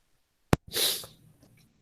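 A person coughs once, close by, during a dental lecture: a sharp burst followed by a breathy rush of air that fades over about half a second, with no talking around it.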